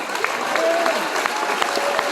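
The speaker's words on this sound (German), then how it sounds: "Die kriegen nochmal einen ganz fetten Extra-Applaus" Applause from a crowd at a charity kids festival in Gommersheim, with scattered claps over a steady wash of sound and voices mixed in, fairly close and moderately loud.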